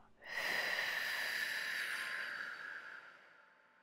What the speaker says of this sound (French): Inspire, puis expire longuement.